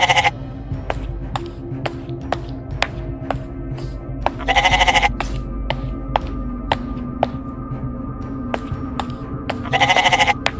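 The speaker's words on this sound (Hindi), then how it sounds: "रामू बकरी को सुनेरी के दुकान ले गया" Goat bleats rise out of a steady background several times, loud and close, over repeated sharp tapping or clanking.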